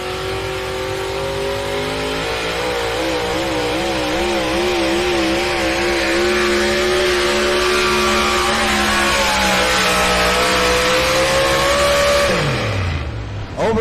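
A pulling tractor's engine roars at full throttle at a truck and tractor pull, a loud sustained howl with rising and wavering pitch that holds for about twelve seconds before dropping off sharply.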